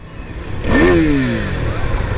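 A Yamaha Virago motorcycle engine, parked, gives one brief rev that swells up in pitch and eases back down, close and fairly loud.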